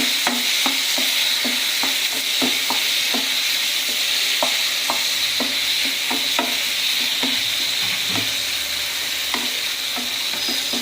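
Chicken kuruma masala sautéing in a pan, a bright constant sizzle punctuated by regular spoon taps and stirring clicks, close and alone.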